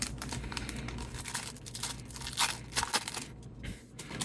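What If trading card packs being ripped open, with close crinkling and tearing foil wrappers crackling steadily in bursts for several seconds, no talking.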